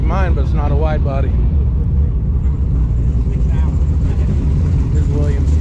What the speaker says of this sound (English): Everybody's revving up.